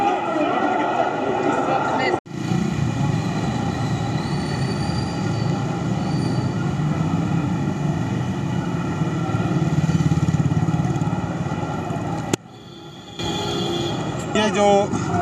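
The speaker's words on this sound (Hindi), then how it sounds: "ये जो काफिला मोटरसाइकिल और ट्रैक्टरों का काफिला आप देख रहे हैं" A convoy of farmers' motorcycles and tractors rolling past at a protest rally near a grain market, a continuous, loud engine rumble and drone with voices talking over it and brief breaks in the sound.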